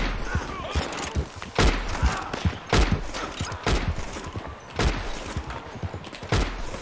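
Gunfire in the online western game Red Dead Online, several sharp shots and thuds in irregular bursts over a low rumble, with excited talk from players.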